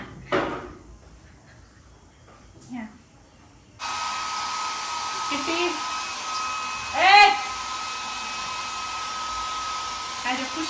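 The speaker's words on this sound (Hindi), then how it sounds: "मैंने सोचा क्यों ना ड्रायर से इसको सुखाया जाए" A hair dryer drying a pet switches on after a few quiet seconds with light knocks, then runs as a steady, fairly close whirring hum, with a brief voiced sound rising over it midway.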